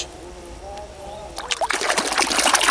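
Tilapia thrashing and splashing inside a fish trap in water, a burst of wet splatters rising suddenly after a calm stretch, close and loud, with people talking.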